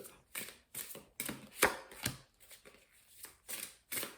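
Oracle or tarot cards are shuffled and drawn up close in a string of short, soft, papery riffles and slides, about ten quick bursts spaced across the moment.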